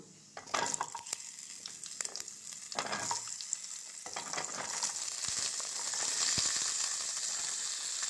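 Washed, cut potatoes go into hot oil tempered with kalonji, setting off a loud frying hiss that builds and holds, with clattering and stirring early on.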